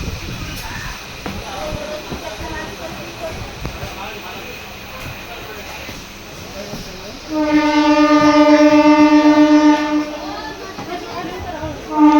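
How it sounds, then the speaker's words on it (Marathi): A crowded passenger train rumbles along under the chatter of the crowd, and then its horn blares loudly and steadily for a couple of seconds. "5 ते 10 मिनटात लगेच रेल्वे लगेच निघाली बघा."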